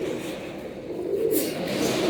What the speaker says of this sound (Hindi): ये जोड़ों के कबूतर हैं